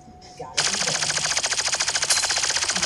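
Rapid automatic assault rifle fire in a video game bursts in after a brief quiet start and keeps up a fast, even rattle of shots for over two seconds, fairly loud.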